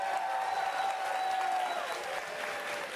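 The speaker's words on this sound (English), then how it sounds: "give yourselves a round of applause for that" An audience applauds steadily as a crowd, a continuous wash of clapping at moderate distance with a faint tone running underneath.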